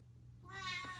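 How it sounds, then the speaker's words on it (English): A house cat lets out a single drawn-out meow indoors beside a workbench, rising in the second half over a low steady background hum, close and fairly clear. "What are you meowing about?"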